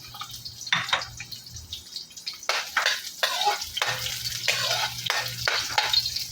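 Garlic and onion sautéing in a pan for ginisang alamang pakbet, bursts of sizzling and spatula stirring come and go in uneven waves over a low hum, close and fairly loud, no talking.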